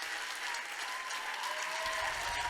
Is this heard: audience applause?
yes